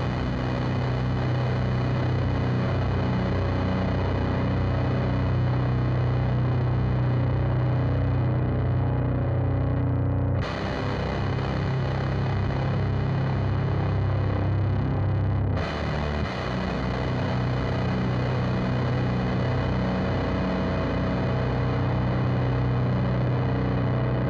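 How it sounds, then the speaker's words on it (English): Electric guitar heavily distorted through a Ground FX Grayskull pedal, ringing out sustained open-string chords, loud and thick, with two sharp changes where new chords are struck. "so we're gonna go back to distortion land. So first let's just play open strings."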